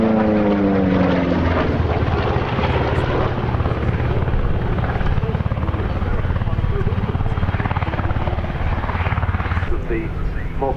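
A P-47 Thunderbolt warplane passes at the Duxford Battle of Britain Airshow, its loud propeller engine a steady, heavy roar throughout. A commentator talks over the engine.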